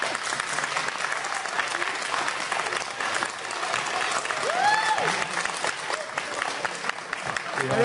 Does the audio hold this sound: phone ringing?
no